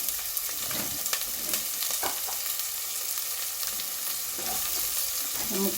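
Three quarters of a kilo of beef frying in oil in a copper pot, a continuous crackling sizzle with scattered stirring clatter and spatula knocks, fairly close and steady, no talking.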